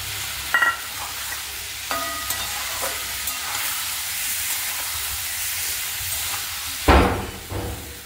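Potatoes and ridge gourd fry in a pan with a steady soft sizzle, broken by several scraping stirs of a spatula and a louder clatter near the end; no one speaks.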